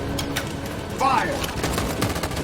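Gunfire from soldiers in Detroit: Become Human, a short volley of rapid shots under a busy game soundscape, with a voice briefly heard partway through.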